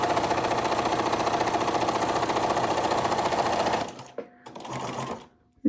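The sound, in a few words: sewing machine stitching, needle down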